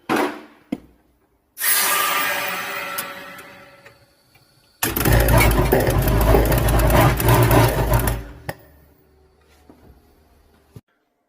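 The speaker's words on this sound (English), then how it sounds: "So I'm going to kick compressor on." An air compressor powered by an inverter starts up loudly and strains without reaching full speed, a heavy whirring burst lasting a few seconds before cutting off, with an earlier brief surge and quiet gaps around it.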